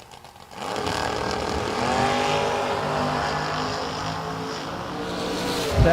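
Drag race launch of a 1967 Mustang against a Corvette Roadster at a strip, engines roaring loud and steady with rising whine as the cars pull away, a sharp burst at the end.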